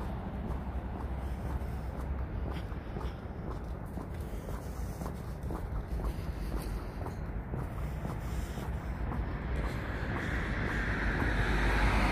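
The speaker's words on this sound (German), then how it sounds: "Es ist windig und arschkalt." Wind buffets the microphone outdoors on a cold, windy day, a steady low roar that swells toward the end, with no talk.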